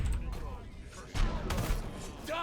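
Sharp blasts from a grenade explosion in the video game Dishonored burst through the mix, a heavy hit followed by further bangs, while a person talks over the game sounds.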